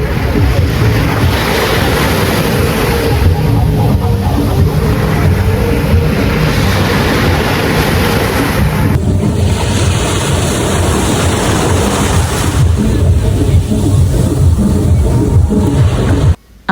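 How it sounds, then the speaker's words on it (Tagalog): Steady ocean waves at night at JBR, Dubai, wash and rumble continuously, with wind noise mixed in. There are no voices. "Ang sarap talang pakinggan ng mga alon sa gabi."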